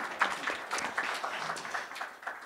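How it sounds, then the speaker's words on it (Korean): A lecture audience applauds steadily, dense overlapping claps at moderate volume heard from within the room, with no talking. "박수 한번 쳐주시고"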